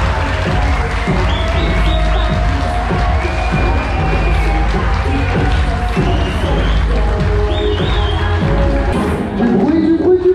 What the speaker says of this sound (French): faites un tonnerre d'applaudissements pour Mike et Charlène